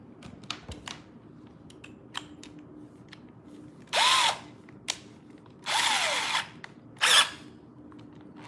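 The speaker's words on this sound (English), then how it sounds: "Let's go drill some shit." Three bursts of a power drill, each lasting about a second, whir up and wind down over a quiet background with a few scattered clicks and taps in between.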